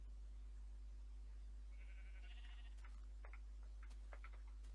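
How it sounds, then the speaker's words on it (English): A sheep bleats in the Minecraft video game, a short nasal cry in the middle of the clip over a constant low hum, followed by scattered faint clicks and ticks. The whole clip is quiet. "let's actually try and get an adult sheep in here then"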